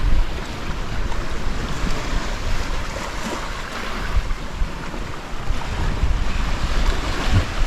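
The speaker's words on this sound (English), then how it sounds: "There's a good wave." Ocean waves rush and surge past a fast-moving sailing boat on open sea, with steady close wash and heavy wind buffeting the microphone, no voices over it.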